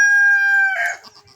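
A rooster on a farm gives a loud, close crow with a clear sustained tone that breaks off into a few short clucks, with no other sounds around it.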